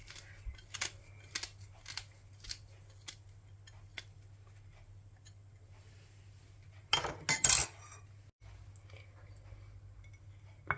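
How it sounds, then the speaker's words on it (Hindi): Fresh mint leaves being cut on a board for kala chana chaat, a handful of sharp, separate clicks and snips spaced apart, then a louder burst of clattering near the end, close and without talk. "अब पुदीना काट लेते हैं।"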